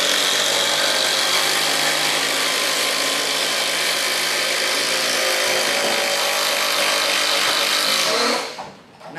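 DeWalt and Makita impact drivers running hard in a head-to-head test, a loud, continuous high whirring and rattling drive close by that cuts off abruptly near the end.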